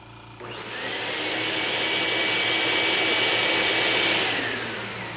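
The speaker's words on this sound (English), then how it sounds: "Let's try the shop vac." A shop vac powered by a DJI Power 2000 power station spins up after a brief pause and keeps a loud, steady motor whine with broadband air roar for several seconds, then starts to ease off near the end.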